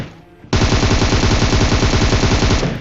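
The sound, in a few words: gunfire in a battle royale video game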